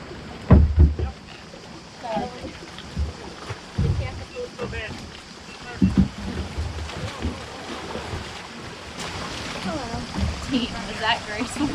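Kayaks paddled on the water near Dubrovnik, Croatia: irregular splashing and paddle strokes with some wind and water wash, close by, with people talking over it.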